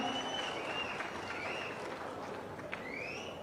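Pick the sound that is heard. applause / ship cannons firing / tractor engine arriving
applause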